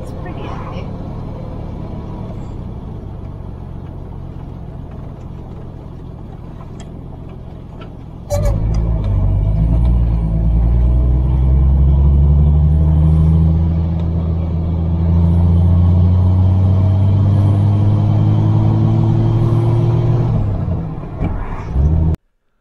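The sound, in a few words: 1949 Rover P3 car driving on coastal road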